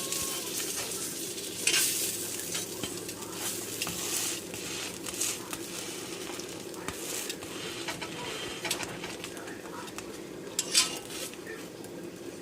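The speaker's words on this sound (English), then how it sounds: "giving them a good toast on my grill. I rubbed them with a little bit of butter" Butter-rubbed bolillo rolls toast on a smoky grill with a steady soft sizzle and crackle, broken by occasional light scraping and clinks of a utensil. Nobody talks.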